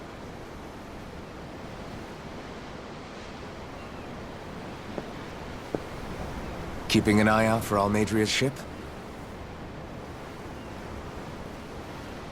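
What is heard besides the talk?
ocean waves at sea, Tales of Arise video game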